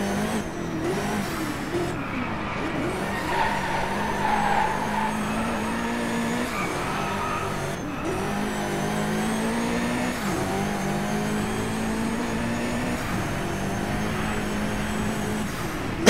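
A race car in the DriveClub driving game roars steadily at high revs while its tires squeal through a long drift. The engine drone and skidding hiss run unbroken and loud, with no talk over them.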